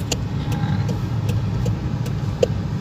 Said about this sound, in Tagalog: Hindi na mo ang makina kasi umaandar na.